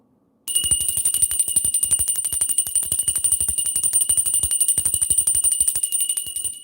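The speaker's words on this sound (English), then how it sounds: "I'm ringing the bell." A bell rung rapidly and steadily, its bright metallic strikes forming a continuous close jangle that starts abruptly after a brief silence and carries on for several seconds, loud and unaccompanied.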